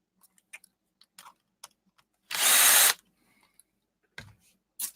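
A power screwdriver removing screws from a ThinkPad laptop being scrapped: one close whirring burst lasting under a second, surrounded by scattered small clicks and handling taps.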